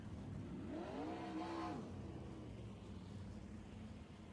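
A 360 sprint car on the dirt oval at East Bay Raceway Park revs up and sweeps past once, its engine note rising and falling at a moderate distance before settling into a low, distant rumble.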